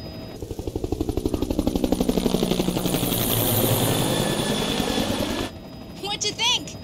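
Helicopter flying in a story-driven video game, its steady rotor chop rising and filling the scene before cutting to quieter game audio with short tonal blips at the end.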